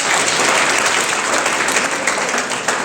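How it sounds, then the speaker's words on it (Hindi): Loud, dense applause from an audience at a motivational lecture, cheering on three children brought up on stage for a memory exercise, a steady burst of clapping lasting a few seconds. "सबसे पहले इनके लिए जोरदार ताली बजाएंगे।"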